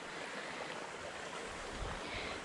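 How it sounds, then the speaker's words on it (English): Water rushes along the Alafia River at high water, a steady broadband hiss and roar filling the whole moment with no pauses or voices. "I don't know if the water is rushing here because of the high water in the Alafia River"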